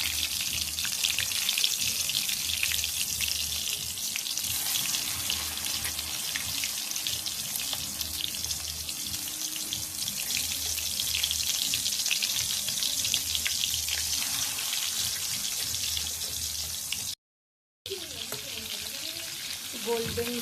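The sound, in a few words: chicken chakali kababs frying in oil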